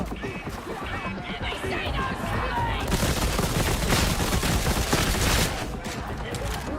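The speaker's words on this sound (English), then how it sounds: "these dual pistols are really fun to use" Dual pistols firing in the Darktide video game, a fast, dense stream of shots that intensifies midway and stays loud, with talk mixed in.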